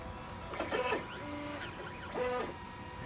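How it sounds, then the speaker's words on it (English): A UV 3D printer lays down its first layer: stepped motor tones glide up and down in two clear passes of the printhead, with a steady mechanical whir between them and no talking. "So it's printing the first layer."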